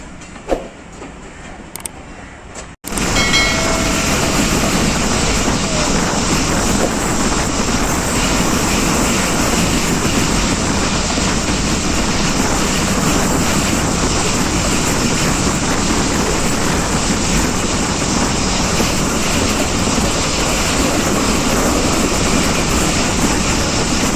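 Jaffar Express passenger train rolling steadily toward Gujranwala, a loud continuous rumble of wheels and carriage noise from inside the crowded train, starting after a brief quieter moment with a few knocks.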